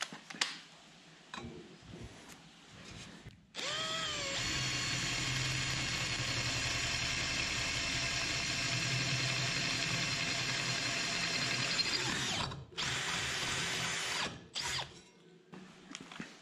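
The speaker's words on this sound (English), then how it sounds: "Get a bigger drill bit" A power drill with a larger bit bores through a boat trailer for cable routing. It gives one sustained, loud whirring burst of about nine seconds, with quieter background noise before and after.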